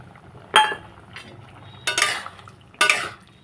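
Spoon scraping and clinking against a pot as dissolved flour paste is added to simmering sukto, three distinct metallic bursts spaced about a second apart over a quiet background.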